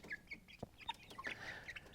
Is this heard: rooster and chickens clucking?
yes